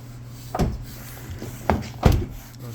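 Kia Sedona 2020 door being shut: several hard knocks and thumps over a low steady hum, the loudest near the end, each a short dull impact.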